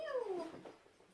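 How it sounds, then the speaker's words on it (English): A cat at a door gives one short, close meow that slides downward in pitch and fades quickly, with no talking. "That's my cat scratching at the door."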